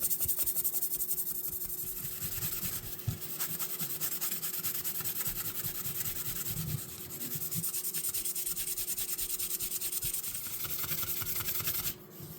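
A pitted Klein electrician's knife blade is rubbed on 2000 grit sandpaper, giving a steady, close, unbroken scratchy hiss of back-and-forth strokes that runs the whole time with no talking.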